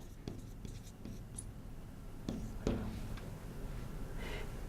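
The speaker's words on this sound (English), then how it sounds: "So let's write that on the board." Marker or chalk writing on a board in an accounting lecture room: faint, sparse scratching strokes over a quiet, steady room hum.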